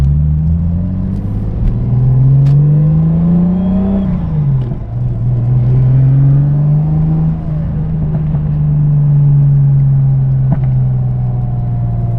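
Turbocharged 2JZ engine in a Lexus IS300 revs hard from inside the car, loud rising pulls that climb, drop sharply as it shifts, then build again in a long sustained roar.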